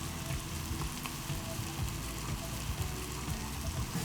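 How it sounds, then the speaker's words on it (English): Vegetables and curry paste sauté in a pot over high heat, giving a steady, close crackling sizzle with small irregular pops and no talking. "allow it to sweat and saute really nicely"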